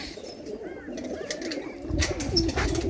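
Pigeons in a Punjabi village coop coo repeatedly in low, throaty bursts at close range, with a louder flurry of rustling or flapping toward the end.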